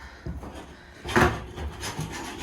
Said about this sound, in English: why we're having to chisel this off, literally off the step